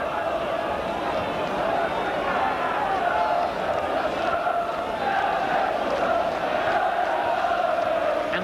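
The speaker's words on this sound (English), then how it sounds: "The crowd willing this goal" Dense football crowd roar at a Newcastle United FA Cup match, a steady loud wall of voices rising with anticipation throughout, with a match commentator's voice faintly underneath.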